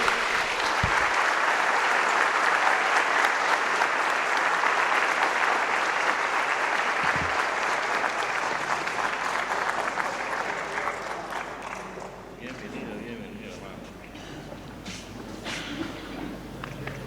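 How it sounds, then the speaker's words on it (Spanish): Loud, sustained applause from a church congregation fills the space for about twelve seconds, then thins and fades into a lighter patter of scattered clapping. "Un fuerte aplauso ante la Iglesia de Dios, que es el cuerpo de Cristo."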